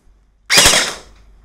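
An SKD M1911 gel blaster pistol fires a single sharp, loud shot over a chronograph, with a brief decaying tail and no talking.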